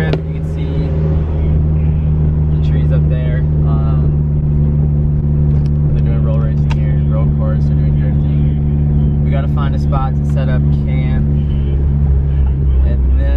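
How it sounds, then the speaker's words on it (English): Cars drifting on a road course at a race track, a loud continuous roar of engines and revving that fills the whole stretch, with voices talking faintly underneath. "And right now on the road course, they're doing drifting."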